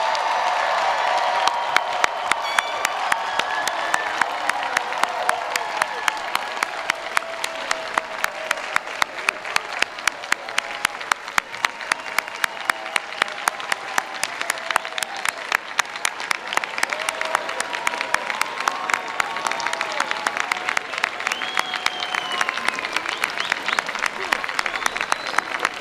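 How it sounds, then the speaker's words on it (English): A large commencement crowd at Amherst College applauds the graduating class of 2025, steady dense clapping sustained throughout at moderate distance, with light cheering mixed in. "one more round of applause to the class of 2025"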